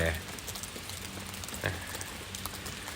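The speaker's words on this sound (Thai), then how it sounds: "ฝนก็ตก ฝนลงเม็ดเบาๆ" Light rain falling outdoors near rice fields and a coffee shop, a soft scattered patter of drops with occasional louder taps, fairly quiet and close, with no talking.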